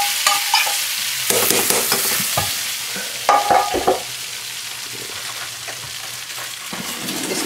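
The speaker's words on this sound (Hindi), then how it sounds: "हम इसे हलीम के अंदर में आहिस्ता आहिस्ता मिक्स करेंगे, थोड़ा डिस्टेंस रखिएगा बिकॉज ये सिजल करता है।" Chicken haleem hissing and sizzling close up as something is slowly mixed in, with steady frying noise, bursts of stirring scrapes and a few clatters, no voices.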